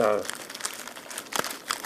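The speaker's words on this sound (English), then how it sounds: "So it comes in that plastic bag, wrapped in a bit of bubble wrap" Plastic bag and bubble-wrap packaging around a digital LCD panel-mount thermometer crinkles in short, close bursts, with brief louder rustles near the end.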